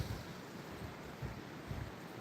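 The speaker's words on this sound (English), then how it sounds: "Is the wind really loud on the phone though?" Wind gusting outdoors near a cottage, a steady rushing roar with low buffeting bursts against the microphone, fairly faint and continuous with no voices.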